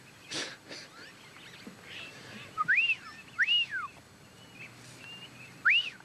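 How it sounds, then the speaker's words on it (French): Eurasian wigeon ducks give several clear rising-and-falling whistled calls, spaced a second or two apart, over faint background noise. "Des canards siffleurs."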